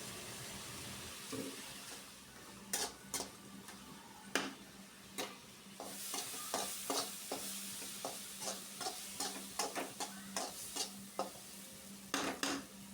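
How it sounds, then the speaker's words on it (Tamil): Onion, tomato, cumin and black pepper are sautéed in oil in a wok for a mutton curry, with a repeated series of sharp spoon scrapes and clacks against the metal over a faint sizzle; no one speaks. "வெங்காயம் வணக்கினதுக்கப்புறமா தக்காளி, சீரகம், அப்புறம் பார்த்திங்கன்னா மிளகு, இது மூணுத்தையும் போட்டு நல்லா வணக்கிறாங்க"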